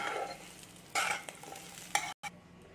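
Chana dal and coconut lightly frying in a pan, a soft hiss broken by a few brisk stirring scrapes, close and fairly quiet.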